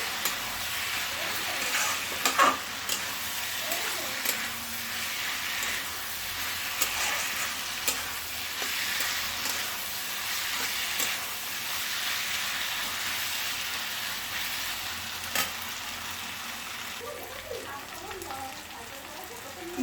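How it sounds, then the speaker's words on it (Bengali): Soybean chunks and potato fry in an oily spice masala, with a continuous close sizzle, occasional stirring knocks and a voice speaking at times. "দেখো বন্ধুরা এটা ভালো করে ভাজা হয়ে যাচ্ছে"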